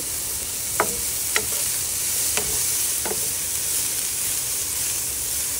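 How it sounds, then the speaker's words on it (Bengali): Bottle gourd cooking in a pan with salt and turmeric, giving a steady close hiss of frying, with four light, evenly spaced taps of a stirring utensil against the pan. "এই দিয়ে ভালো করে নাড়াচাড়া করতে হবে।"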